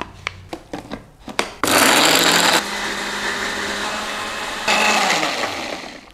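A blender or grinder pulverises garlic, shallots, coriander, white pepper and palm sugar for a Balinese peanut satay sauce, running as a loud, dense whir in two surges after a few brief knocks, with no talking.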